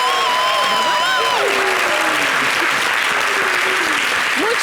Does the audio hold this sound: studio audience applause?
yes